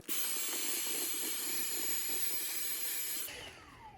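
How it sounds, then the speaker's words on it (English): A vacuum cleaner sucks Rice Krispies off a magnetic screen on a floor vent, giving a loud, steady close-up hiss of airflow that runs for about three seconds before the motor cuts off and winds down. "And what I'll do from here is vacuum that up."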